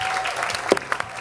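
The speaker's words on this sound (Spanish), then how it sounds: "Un aplauso para el profesor Bolillo." A short burst of applause, a small group clapping close by with a few louder individual claps standing out.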